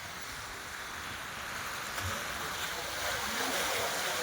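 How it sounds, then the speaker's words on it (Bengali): Ocean waves break on the shore at Digha beach in a continuous wash of surf, building slightly louder toward the end with no clear speech over it. "ঢেউটা দারুণ আসছে"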